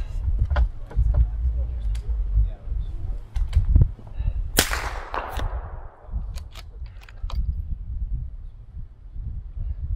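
Rifle shots at long-range steel gong targets during a competition final round, heard as a series of sharp distant cracks over wind and low rumble, with one louder, longer report in the middle and voices in the background.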